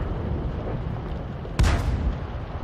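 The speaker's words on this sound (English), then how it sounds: "He fired the round in. It landed in one of the previous explosion points." An artillery round from the M44 in a tank game lands with a single sharp explosive boom midway through, fairly loud against a steady rumbling background, with no talk.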